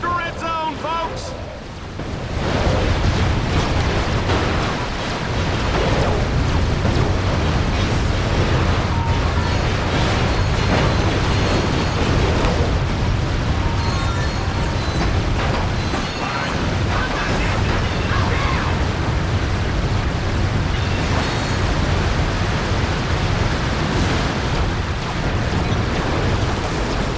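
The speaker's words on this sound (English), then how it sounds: "Oh, the explosions, the gunfire, the carnage." Battle in the beta of the video game Ratchet: Deadlocked, set in the Dreadzone arena, with dense, continuous explosions, booms and gunfire layered into a loud, unbroken wall of combat noise.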